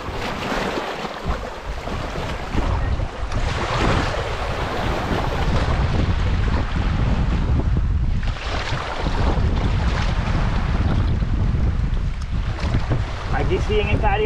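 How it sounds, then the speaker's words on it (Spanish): A motorboat off Cayo Jutia, Pinar del Rio, Cuba, runs steadily with constant engine drone, mixed with wind buffeting the microphone and rushing water, and voices faintly heard at times. "La lancha que te lleva al Cayo de las Estrellas"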